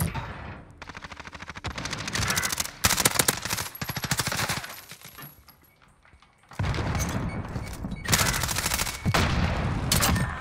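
Rapid automatic gunfire in a first-person shooter's Search and Destroy mode, loud close bursts of rattling shots separated by short pauses and a quieter lull midway.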